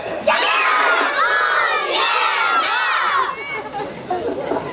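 A large crowd at a family parade yells together in one loud, sustained roar that lasts a few seconds and then fades into scattered shouts.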